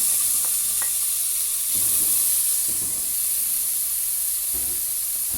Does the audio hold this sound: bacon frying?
yes